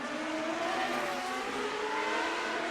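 CART race cars brake into the final chicane in Montreal, a loud sustained high-pitched engine whine with shifting tones that fills the short clip without a break.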